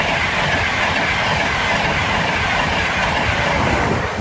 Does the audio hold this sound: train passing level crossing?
yes